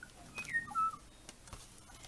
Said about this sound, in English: Manu suddenly realized this was the song of the O'o.